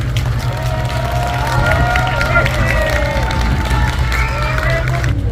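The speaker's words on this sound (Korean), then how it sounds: "다시 한번 뜨거운 큰 박수 부탁드리겠습니다" An audience at a large outdoor patriotic rally claps and cheers, a dense sustained roar of applause with crowd babble and musical tones underneath.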